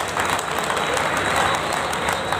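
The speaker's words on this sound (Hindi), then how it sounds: "नारी शक्ति के लिए भी जोरदार तालियां साथियों" Brief burst of crowd applause at a public gathering marking Babasaheb's birth anniversary, steady and fairly loud throughout the short moment.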